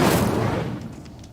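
An Incendio fire spell cast in Hogwarts Legacy, a loud whooshing burst at onset that fades into a rumbling roar over about a second.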